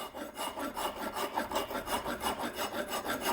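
A hand file rasps scale off the rear brake rotor of a 2018 Lexus ES 350 in quick, even back-and-forth strokes, about three per second, close and steady with no voices.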